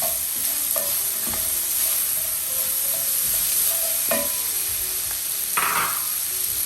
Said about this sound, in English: we're gonna saute our onions here right now